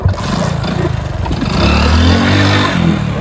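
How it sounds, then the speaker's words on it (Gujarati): A motorcycle engine starts with a clattering catch, then revs up and holds a loud, rough, close idle for a few seconds. "તમે બાઈક ચાલુ કરો ફટાફટ બાઈક ચાલુ કર"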